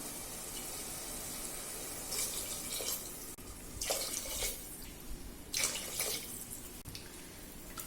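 Water poured from a cup into rice in a pot for tomato rice, a few quiet splashing bursts separated by short pauses, close and faint, with no talk.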